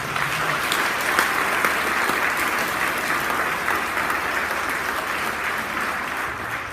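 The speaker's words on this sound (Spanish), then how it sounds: "¿Por qué no le damos un fuerte aplauso" Sustained, loud applause from a church congregation during a Christian worship service fills the space evenly, a dense wash of many hands clapping with no talk over it.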